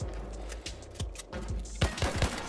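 Rapid bursts of turret gunfire in a video game, several sharp cracks in quick irregular succession, growing denser and louder toward the end, with no talk.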